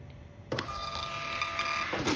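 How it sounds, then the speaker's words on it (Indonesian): A Panda PRJ-80US receipt printer runs off a test page, its steady mechanical whir and motor buzz starting abruptly and continuing evenly for about a second and a half, close and clear with no talk. "printer akan mencetak seperti ini"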